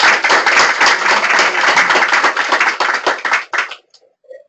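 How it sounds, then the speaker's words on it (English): Audience applause follows a presentation at a gender-transformative parenting event, a dense burst of close, loud clapping that carries for several seconds before stopping abruptly. "Let's give him another round of applause."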